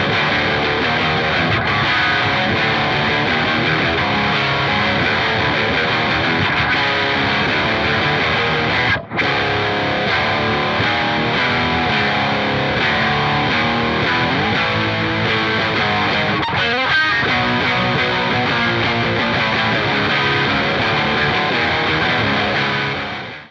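Heavily distorted electric guitar through an overdrive pedal, drive set high and reverb almost off, plays a dense, continuous riff with thick overdriven tone, loud and sustained with a brief cut near the middle.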